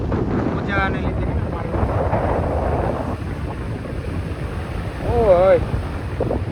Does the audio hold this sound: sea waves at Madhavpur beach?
yes